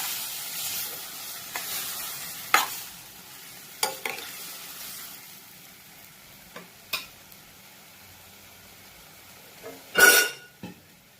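Native tomatoes sauté in a pan with a steady low sizzle, broken by scattered sharp clicks and scrapes of stirring, the loudest clatter coming near the end. No one talks.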